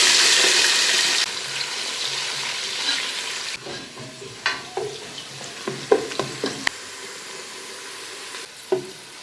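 Finely chopped medium onion frying in hot oil for egg biryani, an even sizzle that gives way to quieter crackle punctuated by several sharp stirring clinks and scrapes.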